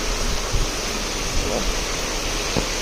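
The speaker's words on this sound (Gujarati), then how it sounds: "આજે વરસાદ આવ્યો ને અહીંયા પાણી જો કેટલું જાય છે, ફૂલ જાય છે" Rainwater rushes fast along a street after a downpour, a steady broadband roar close by with a few small splashes and bumps breaking through.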